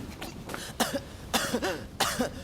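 A character in the samurai action game Rise of the Ronin coughs up blood, four or five harsh, strained coughs in separate bursts, close and fairly quiet with no talk over them.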